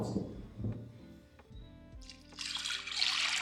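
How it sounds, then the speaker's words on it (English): Water running over hominy corn in a rinse, with soft clinks and handling noises at first, then a brighter rushing stream of water pouring in toward the end, fairly quiet and close. "I'm going to give this a rinse."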